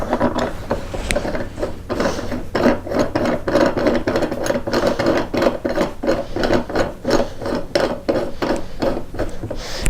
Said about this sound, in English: And we'll gently screw this on.